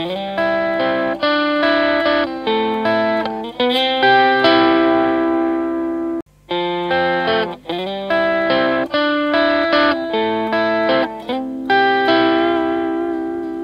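Electric guitar plays the intro of a song slowly, ringing chords with slight string bends, processed with effects and reverb, close and steady with one brief pause midway.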